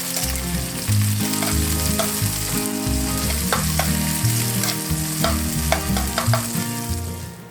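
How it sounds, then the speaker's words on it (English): Loud, continuous sizzling of liver frying in a pan with pepper, with occasional scraping and clinks as it is stirred, no voices. "Stir that up and continue frying."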